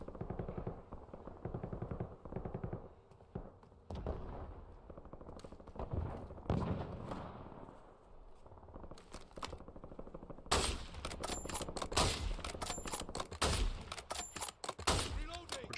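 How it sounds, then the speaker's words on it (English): Gunfire in the video game Warzone, bursts of automatic weapon shots and scattered single cracks, growing denser and louder toward the end, with someone talking over parts of it. "We're just shooting into the smoke."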